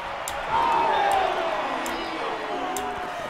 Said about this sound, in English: Sound like they're booing.